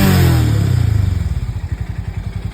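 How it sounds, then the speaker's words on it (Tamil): A tuned aftermarket exhaust on a Hero motorcycle revs hard once, then drops into a loud, close, rapid lumpy idle burble with distinct pulsing firing beats. "Best sounding எக்ஸாஸ்ட்ல Harley also somewhat like this I think. But it's tuned."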